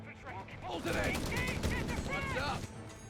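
MG42 machine gun fire in Company of Heroes 3, a dense, rapid rattle of shots running under excited commentary for a few seconds, moderately close and mixed with other battle noise.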